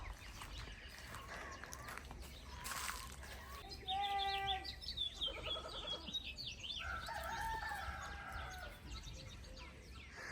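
Chickens cluck and call from a short distance, with a rooster-like crow and bird chirps over a steady outdoor background.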